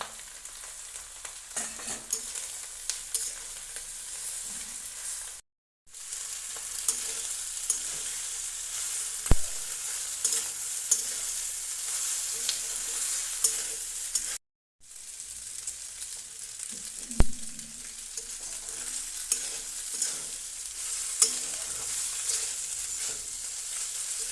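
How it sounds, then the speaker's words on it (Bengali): Boiled pasta lightly frying in a pan for egg pasta, a steady soft sizzle with occasional stirring scrapes and clinks, close by and continuous apart from two brief gaps of silence; no talking. "দুই থেকে 3 মিনিট আমি পাস্তাগুলো হালকা ভেজে নিয়েছি।"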